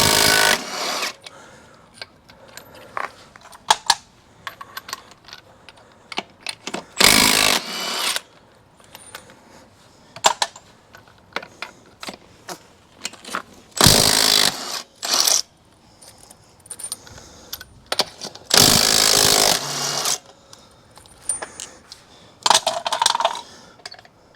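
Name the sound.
Milwaukee impact wrench removing Jeep wheel lug nuts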